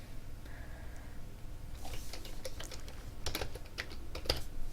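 Computer keyboard typing as code for a batch file is entered, a quiet close run of light key clicks in uneven bursts over a low hum.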